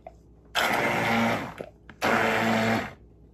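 Countertop blender pureeing tender cooked cauliflower for alfredo sauce, running in two loud, steady whirring bursts of about a second each, separated by a short pause.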